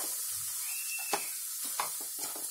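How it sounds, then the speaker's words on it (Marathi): Semolina (rava) roasting in hot ghee in a pan over low heat, a soft steady sizzle with a few faint scraping stirs, close up and alone. "आता या घी मध्ये आहे ना मी रवा भाजून घेते"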